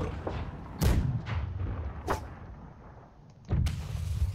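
Ship cannons fire in a naval battle in the pirate video game Blackwake, with several deep booms at uneven intervals, some distant and muffled, over a low rumbling background and no talk.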